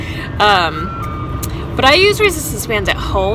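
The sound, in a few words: ice cream truck passing outside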